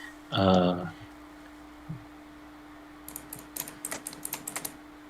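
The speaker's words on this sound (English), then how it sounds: "I really wonder what he's typing." A computer keyboard being typed on during a Dungeons & Dragons session: a short human vocal sound comes first, then a quick irregular burst of crisp keystroke clicks close by after a pause.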